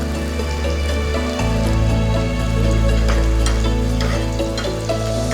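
Shallots fry in hot ghee for Kerala beef mappas, giving a loud, continuous sizzle with scraping stir strokes that grow fuller partway through.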